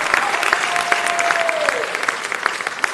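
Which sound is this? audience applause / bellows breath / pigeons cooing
audience applause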